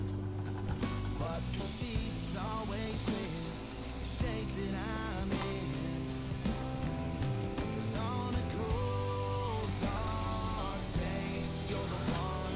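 Chickpea and mint soup ingredients hit hot organic olive oil in a pan, giving a steady close sizzle that runs throughout beneath prominent background music with no talking.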